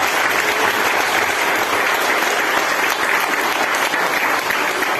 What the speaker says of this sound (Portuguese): você pode dar salva de palmas para você?